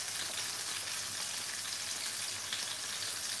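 Chopped onions and green pepper frying in a pan for a ginger curry, a dense, steady hiss of sizzling oil that runs unbroken and fairly close throughout, with no voices.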